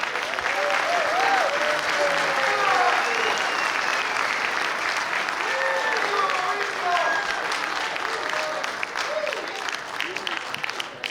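Long, loud ovation from a crowd at the opening of the WBC annual world convention, dense clapping sustained for many seconds with cheering voices and shouts rising above it.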